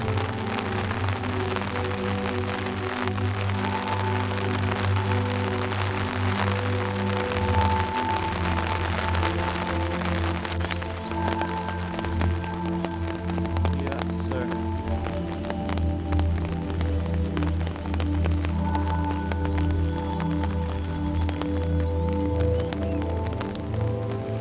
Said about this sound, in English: I wanted it to be like kind of rainy, but this is a little bit more than I was hoping for.